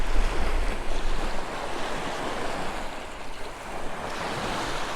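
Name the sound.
waves on rocks, driven by wind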